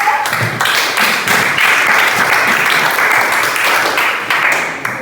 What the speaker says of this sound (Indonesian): Boleh kasih tepuk tangan lagi ke kelompok 1.